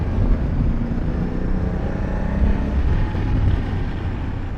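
A 2020 Honda Africa Twin Adventure Sports ES motorcycle engine pulls steadily under way on a cold, windy day, a continuous close rumble with gentle rises in pitch and wind noise mixed in, no voices.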